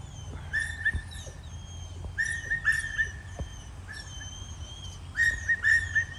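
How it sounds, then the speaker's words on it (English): A small dog whimpers and whines in high, thin, repeated bursts, several drawn-out cries with short pauses between them, fairly close against a quiet background. "My neighbor's got a little dog."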